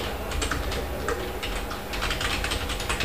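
Rapid, irregular typing on a computer keyboard while writing in a code editor, with close, crisp key clicks in uneven bursts over a steady low background hum.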